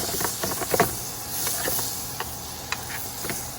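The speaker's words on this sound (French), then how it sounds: "Regarde si ça mousse. Oh yeah! On rajoute l'ail." Garlic sizzling in foaming butter in a pan while chicken breast is being cooked: a steady close hiss with small irregular pops and crackles throughout.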